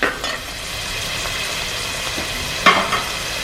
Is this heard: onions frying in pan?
yes